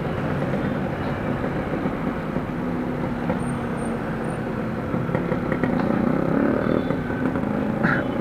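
A group of about nine motorcycles rides together toward Talim Island, their engines forming a steady, continuous drone with road rumble, close and fairly loud throughout.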